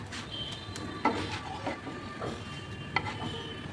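Biulir dal (urad lentil) roti frying in a pan, giving a soft, low sizzle broken by a couple of sharp utensil clinks and scrapes. No one speaks.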